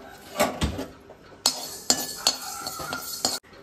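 Sesame seeds are roasted and stirred in a pan for a homemade Kolhapuri masala, with a metal spoon clinking and scraping against the pan in irregular close strikes and no one talking.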